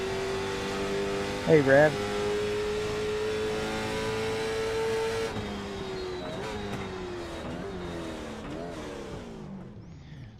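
A NASCAR race car engine at Homestead-Miami in a racing simulator game, a loud sustained high drone with shifting pitch and brief gear-change dips, later easing off, while a voice speaks briefly over it.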